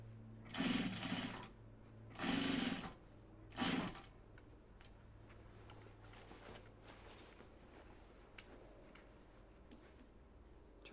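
Sewing machine stitching pajama bottoms in three short bursts close by, each lasting about a second, followed by quiet handling noises.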